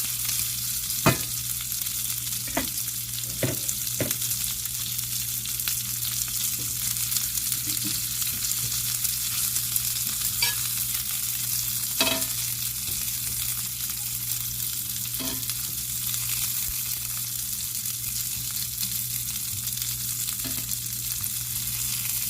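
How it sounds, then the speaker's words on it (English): Potatoes and vegetables fry in a pan with a steady, close sizzle, broken by occasional sharp clicks and scrapes of stirring. "we're going to cook up the potatoes and the vegetables,"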